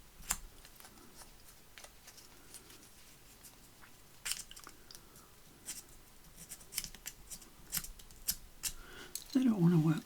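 Sharp scissors snipping through paper in a series of crisp, irregular cuts, fairly close, with quiet handling noises between and a brief voice near the end.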